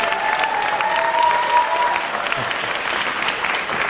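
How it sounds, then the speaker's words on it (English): Steady applause from a large audience fills the whole stretch, dense clapping at an even level with a faint crowd murmur underneath and no voice over it. "Give him a round of applause."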